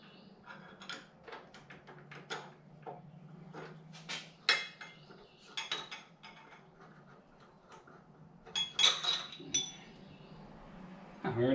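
A collet is swapped on a milling machine in a shop: scattered light metallic ticks, clinks and taps from handling small steel parts, close and fairly quiet, with brief gaps between the bursts.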